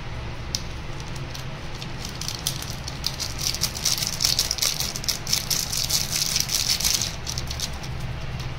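Maggi noodles with masala boiling in a pot, a continuous loud bubbling and rattling boil that swells in the middle, heard alone up close.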